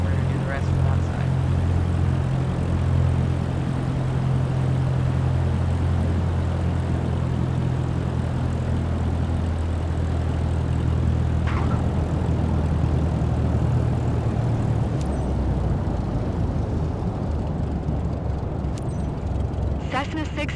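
Engine of a Cessna light aircraft in Microsoft Flight Simulator 2024 after landing, a steady low propeller drone that holds constant and loud throughout, with brief talk partway through.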